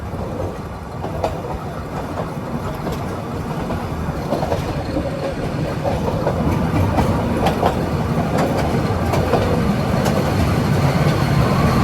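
The Nilgiri Mountain Railway toy train runs near Ooty, heard from on board as a loud, continuous rumble with rhythmic clickety-clack of wheels over rail joints and occasional metallic squeaks, with no voices.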